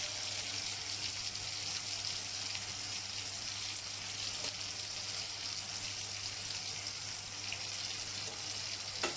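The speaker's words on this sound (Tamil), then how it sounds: "இப்போ வந்து நம்ம வந்து மீனை பேக் சைடு திருப்பி வச்சுருவோம்." Fish frying in oil in a pan while cooking a masala fish curry, a steady close hiss and sizzle throughout with faint clatter and no talk.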